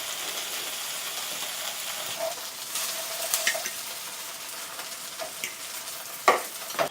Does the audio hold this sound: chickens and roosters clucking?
no